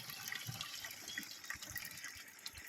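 Liquid fertilizer solution (Agromaster 20-20-20 drip fertilizer) pours steadily into a battery-charged sprayer pump, a continuous close splashing trickle with no talk.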